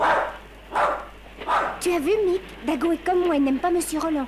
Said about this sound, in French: C'est un chien, monsieur.